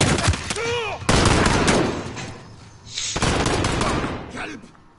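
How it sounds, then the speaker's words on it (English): Bursts of heavy .50 cal machine gun fire in a PS4 shooter, two long loud rattling volleys separated by a brief pause, with a voice shouting over the start. "I decided to bust out the 50 cal for a bit."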